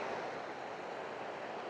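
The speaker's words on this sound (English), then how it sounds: "And then you've got the waterfall, obviously" A waterfall on the Isle of Skye in autumn gives a soft, steady broadband rush of falling water, faint and unbroken, heard alone.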